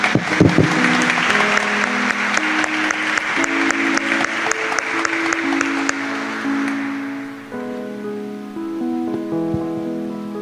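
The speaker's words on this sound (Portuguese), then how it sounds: "Vamos aplaudir a palavra de Deus." A church congregation applauds at a service, a dense, loud burst of clapping for several seconds that fades out as organ or keyboard chords carry on underneath.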